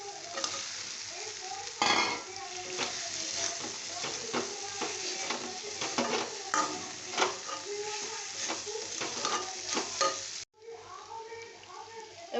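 Dried fish and potatoes sizzle and fry in oil-released spice paste, with steady crackling and repeated scraping stirs throughout, a brief drop near the end before the frying resumes.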